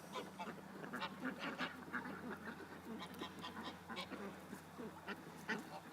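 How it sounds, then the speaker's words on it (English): Several ducks quack repeatedly outdoors, a busy, faint chorus of short overlapping calls with steady background noise throughout. "Come on, ducks."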